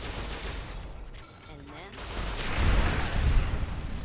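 Gunfire from a regenerating infinite-ammo weapon in Fallout: New Vegas, modded with a randomizer: repeated shots build into a rattling, noisy barrage that grows louder toward the end, with a voice talking over part of it.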